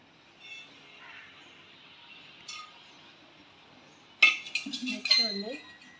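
An old, unused tin-coated metal can, the kind kept for milk or oil, is picked up and handled, giving a burst of close metallic clinks and rattles after a quiet stretch.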